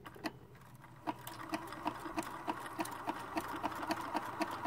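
A sewing machine stitches a lace applique onto fabric with invisible thread, giving a quiet, steady run of rapid mechanical ticks and thumps. It plays alone without talk.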